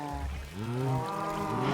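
A Minecraft cow lets out a single close, clear, low moo that bends upward and holds, with no talk over it.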